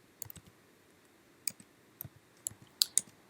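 Sparse, crisp key clicks tapped on a computer keyboard while typing Rclone commands, a few keystrokes in irregular bursts against near silence.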